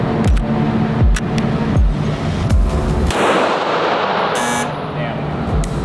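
An STI 2011 pistol fires about five sharp, loud reports spaced roughly a second apart at an outdoor shooting challenge, each crack trailing a short echo, followed by a brief noisy bang and rustling.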